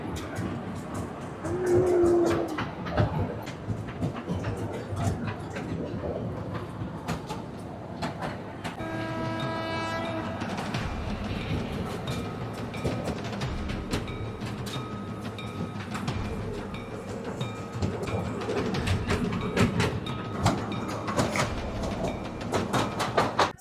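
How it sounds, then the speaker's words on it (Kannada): A small amusement ride train at a Maha Shivaratri fair in Vijayapura rumbles along steadily with rhythmic clacking and rattling, with a brief whistle-like tone partway through and faint chatter in the background. "ಜಸ್ಟ್ 10 ರೂಪಾಯಿ 20 ರೂಪಾಯಿ ಒಳಗಡೆ ನಾವು ಟ್ರೈನ್ ಒಳಗೆ ಕೂತೀವಿ"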